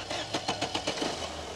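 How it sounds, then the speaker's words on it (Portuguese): A Fiat Palio Adventure 1.8 at a used-car fair cranks over in a quick series of rhythmic starter pulses, then settles into a steady running engine, close and moderately loud. "pedir para o amigo da partida aqui no motor, para vocês escutarem o carro funcionando aqui junto comigo"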